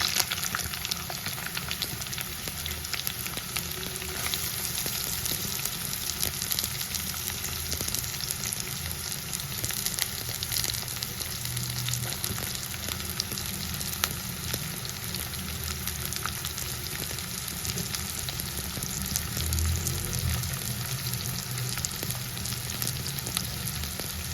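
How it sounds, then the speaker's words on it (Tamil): Onions sauté in hot oil with fennel and curry leaves for a kerala kadala curry, giving a long, unbroken, dense sizzle at close range. The frying hiss stays even with faint stirring underneath, and no one speaks. "வெங்காயத்தை நல்லா ப்ரௌன் ஆகுற வரைக்கும் வதக்கிக்கலாம்"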